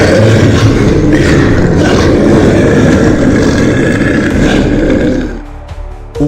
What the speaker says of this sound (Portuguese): um urro, agora, muito mais alto e apavorante.